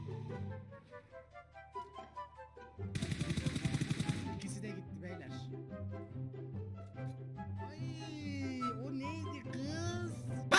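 Automatic gunfire from the mobile battle royale game PUBG Mobile: a fast, dense burst of rapid shots in the game's audio, with music and a voice talking before and after.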